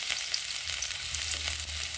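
Onions and garlic frying in a pan for stir-fried vegetables make a steady, dense, loud sizzle with faint crackles and no pauses, close up and with no talk.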